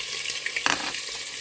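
Sliced onions frying in hot oil for a Nigerian Sunday stew, giving a steady broadband sizzle with a brief louder crackle burst midway, close and alone with no talk.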